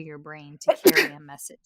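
A single sharp sneeze bursts out in the middle of someone talking, close and loud.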